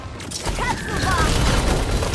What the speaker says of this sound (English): Kudzu Bomb!